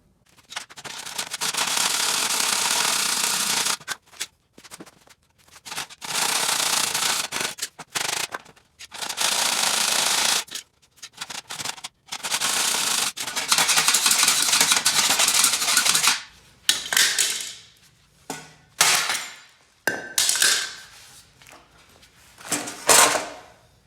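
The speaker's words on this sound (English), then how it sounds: "So I'm just going to cut this spring too." A suspension spring on a stackable dryer-washer is cut through, making loud, harsh, close-up abrasive bursts several seconds long with short silent gaps between them, then choppier, shorter bursts toward the end, with no talking.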